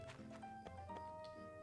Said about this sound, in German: hier sind ja auch Teddy und Spacer, die beiden Pferde